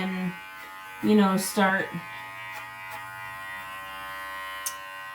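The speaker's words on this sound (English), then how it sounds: "I wanted him to get used to the sound of the clippers." Electric hair clippers buzz steadily at close range while a dog is groomed, holding one continuous hum throughout, briefly masked by a person speaking near the start.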